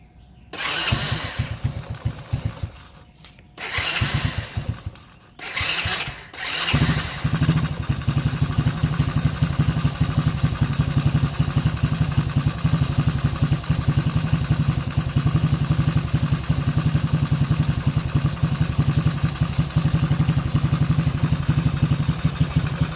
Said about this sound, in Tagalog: papandarin muna natin yung ating motor